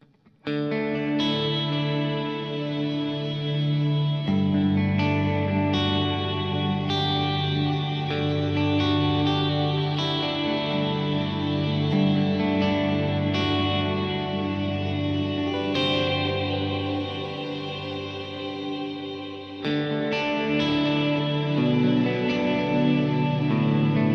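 Electric guitar played through a Kemper amp with reverb before and after the amp, a delay, then another reverb. Sustained chords and notes ring out in long, washy echoing tails, loud and continuous.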